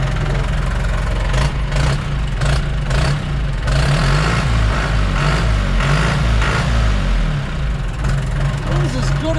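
A John Deere 2650 tractor engine idles steadily with a low, rumbling drone and faint knocking, continuous and fairly close, while people talk over it.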